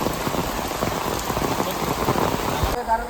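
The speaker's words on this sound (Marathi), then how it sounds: "कारण का पाऊस जोरात आहे" Heavy monsoon rain pours down beside a village river, a loud, dense and unbroken patter drumming on surfaces before it cuts off abruptly near the end.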